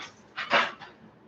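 A dog lets out a short whimpering yelp followed by a quick bark, fairly faint and close, lasting barely a second.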